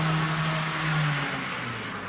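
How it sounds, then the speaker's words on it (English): A rare Lindsay 8-wheel-drive Globe F7 model locomotive chassis runs close up. Its motor gives a loud, steady hum, with a slight gear whine on top that shifts pitch partway through. "Most of the noise you hear comes from the motor. I mean, you can hear a little whine from the gears"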